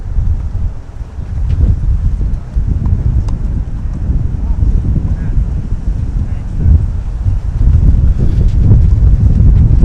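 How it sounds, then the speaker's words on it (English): Strong wind buffets an outdoor microphone at a 2013 open tennis tournament, making a loud, continuous low rumble that surges and fades for the whole stretch. "This wind is super strong."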